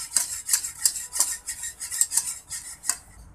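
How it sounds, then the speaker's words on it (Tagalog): Spoon clinks against a bowl while sliced coffee jelly is stirred with all-purpose cream, giving a steady run of sharp metallic taps about three per second, close and fairly quiet, with no voices. "Dapat haluin din natin itong mabuti."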